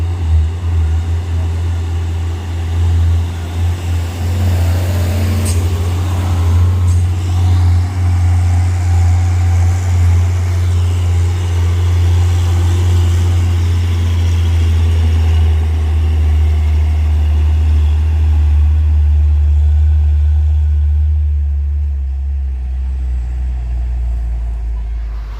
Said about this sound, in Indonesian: truk oren akan menanjak ngambil jalur kanan